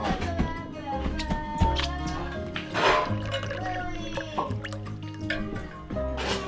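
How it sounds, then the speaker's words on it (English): Water drips from a Life Straw gravity filter into a jug at a snowy Alaska winter campsite, a run of quick close drips and trickles mixed with background music and people talking. "we're running it through this Life Straw water filter. Gravity feeds it down into our water jug"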